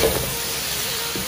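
Kangkung spinach sizzles in a hot pan while being stirred, giving a short, even burst of broad, steamy hiss that stays close and loud with a faint scrape at the edges.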